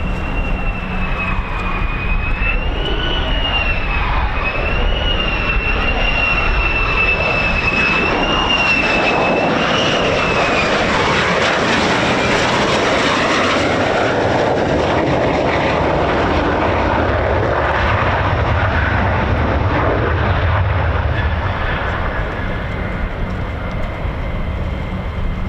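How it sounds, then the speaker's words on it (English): Two F-35 fighter jets come in to land at RAF Lakenheath, a loud continuous engine roar with a high whine that rises and sweeps, then swells into a broad rumble as they pass close. "our last 2 F-35s just coming in now"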